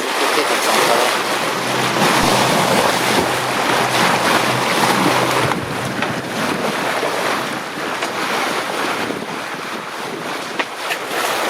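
A sailboat motoring under mainsail alone with no genoa, in calm, windless conditions at sea, engine drone low and steady beneath constant wind buffeting and rushing water along the hull.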